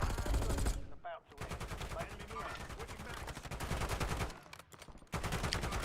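Rapid bursts of gunfire from a video game, including sniper rifle shots, crack loudly in quick succession with brief gaps of near silence between volleys.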